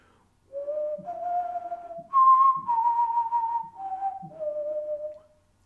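A clear melodic whistle moves through several sustained notes, rising to a higher pitch in the middle and then falling back, alone and close.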